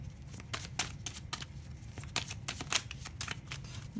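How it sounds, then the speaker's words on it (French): Tarot cards are shuffled and drawn from a deck, producing close, soft riffling and flicking taps in irregular bursts over a low room hum. "Je sais pas pourquoi j'ai envie de tirer une autre carte."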